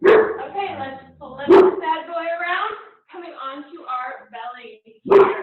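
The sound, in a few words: dog barking in the house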